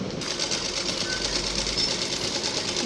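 A sewing machine stitches the cuff of a salwar with a continuous, even mechanical whir and rapid needle chatter at close range, running steadily throughout.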